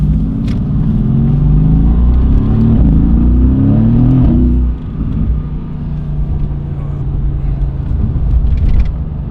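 A Mercedes-AMG GT-S Edition 1 V8 revs hard and accelerates past a bus, its deep engine roar rising through the gears with a dual-clutch shift, then settling into a steady loud cruise rumble.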